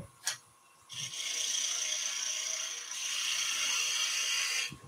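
A skew chisel cuts wood turning on a lathe in two long, steady passes, giving a sustained scraping hiss. A brief tap comes before the cuts, and the lathe hums underneath.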